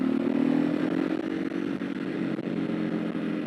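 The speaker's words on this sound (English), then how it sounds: "It does make such a big racket when I'm just like releasing and just allowing the engine brake to do its thing" A Ducati 999 motorcycle on a ride engine-braking off the throttle, giving a loud, steady rasping drone with a low rumbling pitch that sags slightly as it continues, close and unbroken with no talking.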